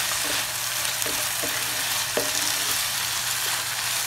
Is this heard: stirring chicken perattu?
yes